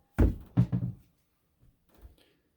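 Split firewood pieces for a wood stove being cracked apart by hand, three sharp woody knocks in quick succession followed by fainter clunks, close and otherwise quiet.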